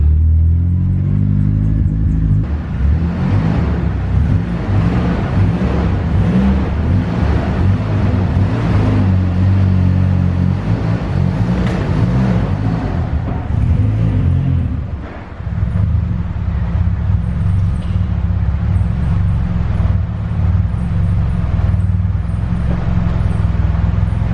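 Nissan S14 engine running steadily and loud throughout, a deep continuous drone with a brief dip in revs partway through, likely while the car is moved onto a ramp low on fuel.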